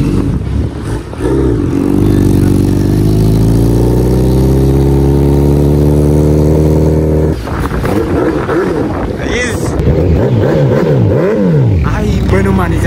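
An 800cc motorcycle engine runs loud and close, holding a steady throbbing idle that rises briefly in pitch before settling back into a rough, lumpy rumble with a few higher rattles.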